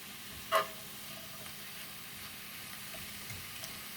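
Greens sauté in a pan over medium-high heat, giving a faint, steady sizzle with one sharp click near the start.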